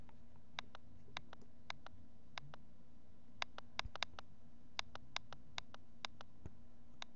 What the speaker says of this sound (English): BlackBerry Storm click